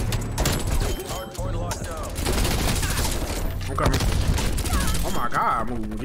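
Rapid gunfire in a Call of Duty-style multiplayer shooter: dense, loud bursts crackle almost without pause, with voices talking over the shooting.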